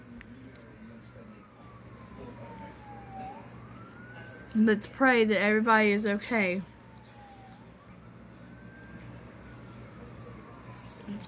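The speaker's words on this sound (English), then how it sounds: "I hear sirens." Emergency vehicle sirens pass outside, rising and falling in long sweeping wails that carry across the whole stretch at moderate distance, with a person speaking briefly partway through.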